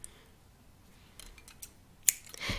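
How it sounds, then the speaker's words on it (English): Scissors snipping a length of beading thread for peyote stitch beadwork, heard as faint, close clicks building to a sharp cut near the end, with no talking. "First, we cut a piece of thread, cut about 2 meters"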